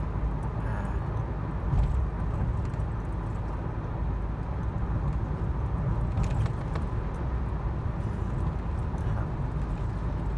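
Heavy evening road traffic in Thailand makes a constant dense rumble of many cars passing, steady and fairly loud throughout with no talk.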